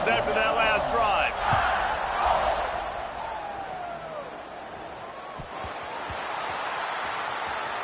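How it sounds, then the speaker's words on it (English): Stadium crowd at an LSU versus Alabama college football game roars loudly at kickoff, a broad wash of cheering and whoops that settles into a steady murmur, with a voice talking over it. "this crowd is feeling themselves after that last drive"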